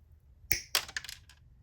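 Tsunoda needle nose pliers snip with a sharp close click, then a short run of lighter clicks and taps as the jaws work, with no talk.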